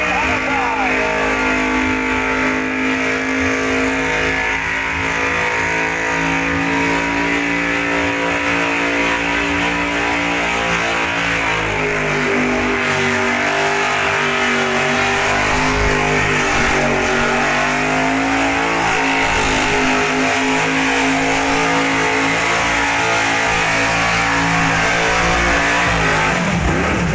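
A powerful 400-cubic-inch LS V8 car engine roars and revs hard without letup during a burnout at Summernats, sustained and loud, with a voice talking over the noise.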